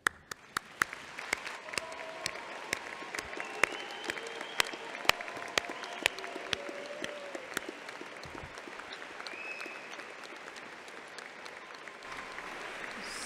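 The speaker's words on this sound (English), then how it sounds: "So let me ask our newest graduates to stand and receive our round of applause." A commencement audience applauds its graduates with a long round of steady clapping in a large hall, with sharp individual claps standing out near the start.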